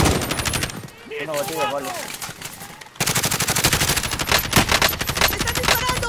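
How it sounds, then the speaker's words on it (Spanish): Warzone squad match with dense, loud automatic gunfire in rapid rhythmic bursts, dropping out briefly while someone speaks over it and a brief burst of game chatter sounds, then resuming as a sustained close barrage. "¡Me están disparando!"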